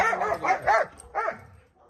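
Dogs bark outdoors in a quick cluster of four or five loud, excited barks and yips, fairly close, then fade into a faint whine.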